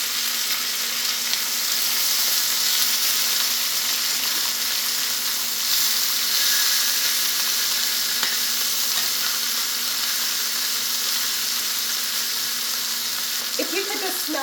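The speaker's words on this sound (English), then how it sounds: "This quail cooking in the butter and the onion flavor" Quail frying in butter with onion in a hot pan gives a loud, close, continuous sizzle that stays steady and unbroken throughout.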